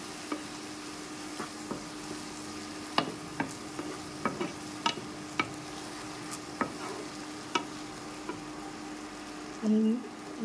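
A spoon scrapes and taps repeatedly against a pan while onion masala sizzles softly in oil underneath, with irregular clicks throughout.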